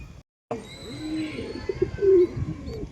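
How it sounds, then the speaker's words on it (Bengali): Pigeons cooing in a loft housing young squabs, several soft throaty coos close by, rising and falling over a quiet background after a brief gap of silence. "তোমাদের দেখাই কবুতর।"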